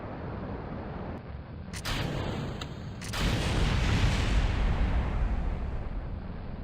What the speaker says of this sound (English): None of the things that exploded were important.